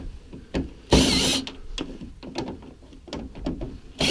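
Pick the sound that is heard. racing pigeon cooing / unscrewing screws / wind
unscrewing screws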